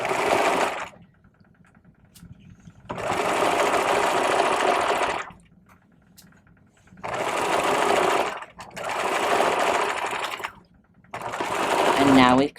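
A sewing machine stitching around a vest bag lining runs in four steady whirring bursts with short pauses between them, close and loud, ending with a brief squeaky sound.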